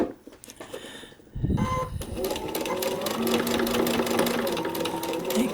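A sewing machine stitches the seams of a paper-pieced quilt block, starting after a short pause and then running in a steady, close, rapid whir.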